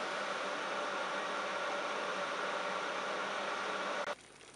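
A Cookeo multicooker runs with a steady, even hiss and hum close by, holding constant for several seconds before dropping suddenly to a quieter background murmur.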